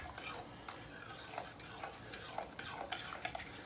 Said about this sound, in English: Let's mix this.